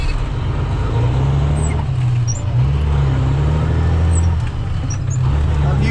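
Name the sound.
truck engine revs falling while floating gears without clutch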